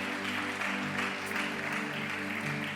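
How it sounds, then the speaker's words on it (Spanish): A church congregation applauds during a service, sustained dense clapping with a steady wash of crowd noise and a held musical drone underneath, continuous for the whole stretch. "Da un aplauso al Rey."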